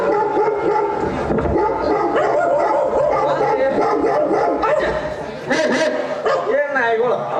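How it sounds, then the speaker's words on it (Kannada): Dogs bark and yip during a Kannada village stage drama, with sharp barks and whimpering cries mixed in among loud voices that talk over them through the whole stretch. "ಏನ್ ನಾಯಿಗಳು"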